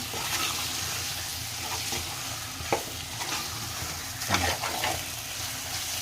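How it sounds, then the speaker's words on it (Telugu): Chicken pieces being mixed with masala in a pot for biryani give a thick, wet sizzle under continuous stirring, with a few louder scraping knocks of the spoon against the pot and no speech. "చికెన్ని మంచిగా అంతా ముక్కలకు పట్టేలాగా మంచిగా కలుపుకోవాలండి నీట్గా"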